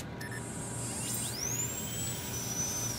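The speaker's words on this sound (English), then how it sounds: "Why does it sound like a drill when you're doing that?" A drill-like whine from injecting adrenaline in Fallout: New Vegas: a thin rising chirp, then a long high tone that sweeps up and slowly glides down over a steady low electronic hum, with no talking.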